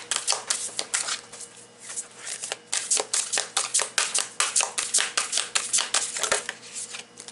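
Nature's Whispers oracle card deck being shuffled by hand, a close, soft run of rapid riffling flutters and papery slaps repeating steadily throughout, with a faint hum beneath and no voices.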